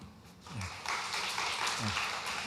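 Steady applause from a church congregation fills the room, a continuous patter of many hands clapping with a few voices faintly beneath it.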